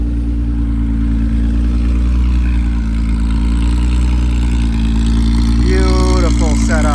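A 1978 Porsche 911 engine idles with an exhaust cutout open, a loud, steady, deep rumble running throughout, with a voice talking over it near the end.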